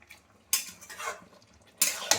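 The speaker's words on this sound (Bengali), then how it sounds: "এবারে সবগুলো একসাথে আমি নেড়ে দেবো।" A spatula mixes prawns and spinach together in a cooking pan: two short bursts of scraping against the metal about a second apart, close, over a faint sizzle, with no talk.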